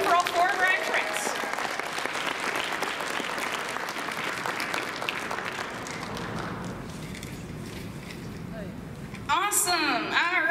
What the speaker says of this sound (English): Let's give a round of applause to the group that just came on.